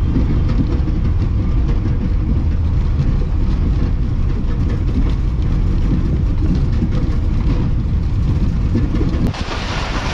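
The Karakoram Express passenger train running on rails between Lahore and Karachi, heard from inside as a loud, steady, broadband rumble and clatter with no pause.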